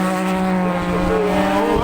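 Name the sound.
superbikes racing at Kirkistown circuit, last lap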